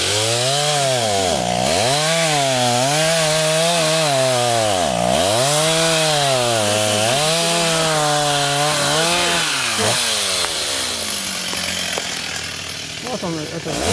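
A chainsaw cuts trees beside a pond, loud and close, its engine rising and falling in pitch as it bites into the wood again and again, then settling toward idle near the end.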